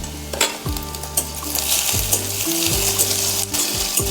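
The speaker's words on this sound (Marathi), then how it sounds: "तेही काही मिनिटांसाठी आपल्याला कांद्यामध्ये परतून घ्यायचं आहे।" Garlic, ginger and cashews fry with softened onions in oil, a steady loud sizzle broken by several scraping stirs of a spoon through the pan, with no talking.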